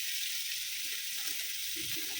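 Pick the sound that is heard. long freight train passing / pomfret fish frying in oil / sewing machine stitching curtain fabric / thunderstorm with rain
pomfret fish frying in oil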